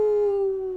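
A single sustained, tonal dog howl or whine from a video game, steady and close, lasting under a second with no talk.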